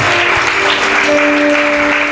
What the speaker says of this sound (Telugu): గట్టిగా చప్పట్లు కొట్టిన హల్లెలూయా